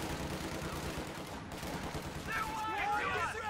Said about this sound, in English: make sure the machine gun has to readjust its fire